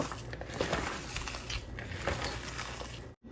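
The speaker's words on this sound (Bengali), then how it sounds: "এবারেতে কেটে রাখা রসুনগুলো দিয়ে একটু ডলা দিয়ে নিব" Chopped garlic mixed with salted chopped onion being rubbed and squeezed by hand in a bowl, giving a steady close crinkling, squishing rustle with small crackles throughout, ending in a brief silence.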